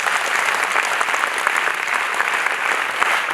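Children at a drug awareness event clap together in a dense, sustained burst of applause, loud and continuous throughout, with no distinct voices over it.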